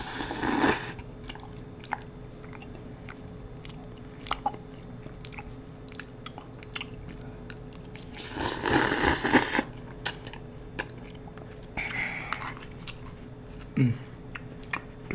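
Spaghetti is eaten up close, with wet chewing and mouth sounds, soft clicks, and a couple of louder bursts of slurping and crunching, quiet and intimate with no speech.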